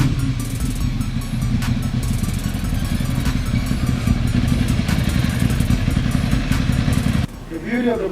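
A Ducati Monster 795 motorcycle engine runs steadily with a loud, continuous mid-range drone while riding, then cuts to a quieter passage near the end.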